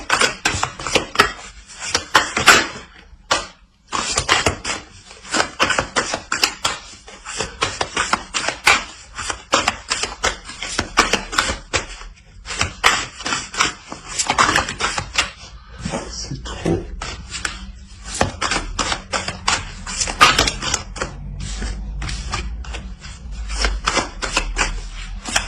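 Tarot cards shuffled by hand for another draw, a long run of dense, crisp riffling flutters and snaps with brief pauses, close and fairly loud, with no talk.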